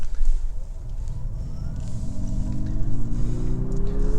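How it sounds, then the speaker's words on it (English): A 2025 Honda CR-V e:FCEV hydrogen fuel-cell car accelerating from a stoplight, heard from inside as a low rumble with a faint rising electric whine climbing steadily in pitch, no talking. "We're gonna accelerate one more time once we get to the stoplight here."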